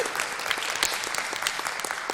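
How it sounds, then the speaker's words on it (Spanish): An audience at a live science show bursts into steady applause, dense and even clapping from many hands that carries on without a break. "Un aplauso para ti por darnos lecciones de humildad"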